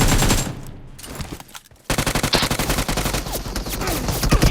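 Automatic gunfire in PUBG Mobile, loud rapid bursts that fade into a short lull, then resume as sustained, rhythmic machine-gun fire with scattered single shots to the end.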